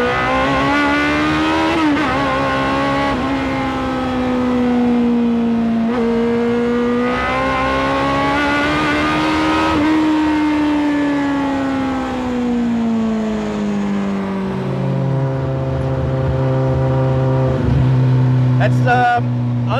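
A Campagna T-Rex three-wheeler with a Kawasaki ZX14R engine screaming up toward 11000 RPM, loud rising and falling revs through sequential gear changes, close and continuous, with a voice talking over it.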